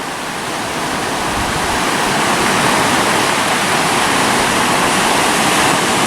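Sea waves roll and break on the shore at Freshwater Bay, Isle of Wight, a loud continuous wash of surf that swells slightly and holds steady.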